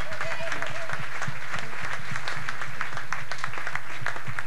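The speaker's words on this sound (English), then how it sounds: "Give them all a nice round of applause." Audience applause at a 1992 Christmas show aboard the cruise ship Monarch of the Seas, honoring the lights and sound technicians: a steady wash of many hands clapping, moderately loud, with a voice briefly over it.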